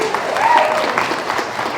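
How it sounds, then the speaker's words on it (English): At a Black art fair, the audience gives a brief round of applause for the event's sponsors, a short, moderately loud wash of clapping with some crowd murmur mixed in. "So please give it up for the sponsors. Round of applause,"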